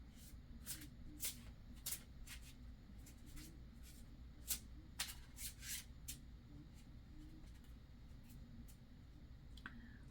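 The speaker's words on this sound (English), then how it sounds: "So now I'll pull a card for us." Genius Garden Tarot cards shuffled and drawn by hand, a string of soft flicks and riffling slaps spaced irregularly, close and quiet over faint background hiss.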